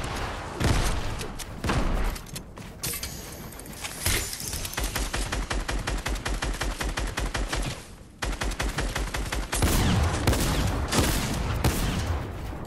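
Grenades and gunfire in a first-person shooter video game: loud, dense bursts of rapid shots and blasts fill the clip continuously, with a heavier burst near the end and no talk.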